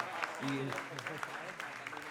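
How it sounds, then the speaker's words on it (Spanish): Audience applause at a gathering honouring Alicia Eguren forms a steady, fairly quiet rush of clapping, with voices talking over it. "un aplauso para la compañera Alicia Eguren"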